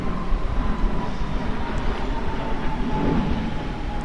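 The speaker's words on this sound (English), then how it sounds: "I'm gonna let that plane go by." An airplane flying overhead above woods, a broad steady droning roar that holds loud throughout with no voices.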